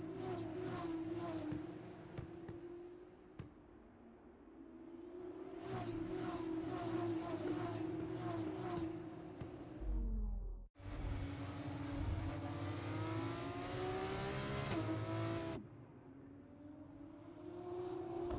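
Formula 2 cars in the F1 24 video game run a formation lap with steady engine drone and revving that shifts in pitch as they pass, under a commentator's voice.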